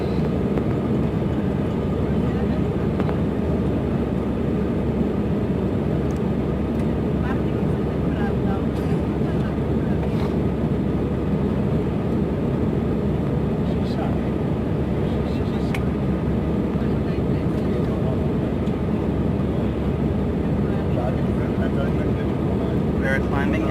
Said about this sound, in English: We're climbing and heading to Varanasi.